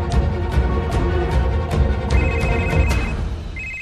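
A telephone rings in repeated bursts of bright, trilling tones as a call is being placed, steady and fairly loud, with a continuous low background hum underneath and no talking.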